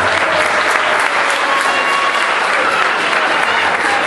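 Loud, sustained applause from an audience after a children's stage performance, dense and even throughout with no pauses.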